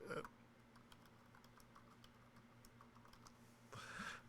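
Rapid typing on a small computer keyboard, a steady run of close, light key clicks that closes with a louder burst of clatter.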